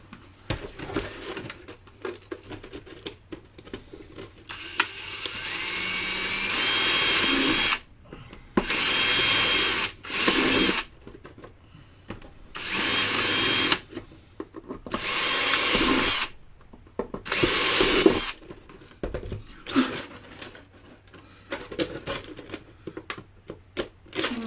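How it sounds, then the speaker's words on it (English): A power drill whirs in several separate bursts, each a few seconds long, drilling holes in a Axial Ridgecrest RC rock racer body near the windshield, with short pauses and faint handling noises in between. "drill your holes in it like so"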